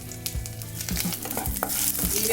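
Cumin seeds heat in hot oil with a bright continuous sizzle, broken by repeated spatula scrapes and knocks against the pan in an uneven rhythm.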